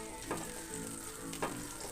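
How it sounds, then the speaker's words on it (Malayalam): Vermicelli frying in oil in a pan, giving a soft, steady sizzle with a couple of faint stirring touches; quiet and close, with no one talking. "നമ്മൾ അതിൽ അതിലേക്ക് സേമിയ വറുത്ത് വെക്കുക സേമിയ വറുക്കണം"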